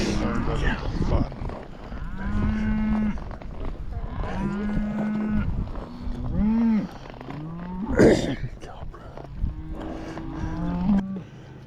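Cattle low repeatedly, several drawn-out moos one after another, loud and close on a working farm where a young child plays among the cows.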